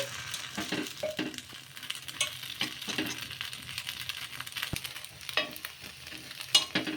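Fresh coconut ponganalu fry in hot oil with a steady crackling sizzle, broken by intermittent scraping and stirring taps from a utensil and a few sharp clicks, close by and with no voices.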